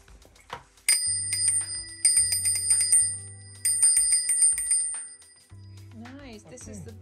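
Bell fitted on an electric bike's handlebar near the pedal, struck in several quick bursts of bright metallic rings with pauses between, heard up close alongside voices talking.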